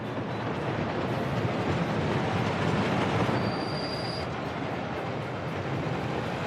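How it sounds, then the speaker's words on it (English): A train rolls along the track in the Workers & Resources: Soviet Republic game, a steady loud rumble of wheels and carriage with a brief high squeal of wheels partway through. "Let's take a ride on this train."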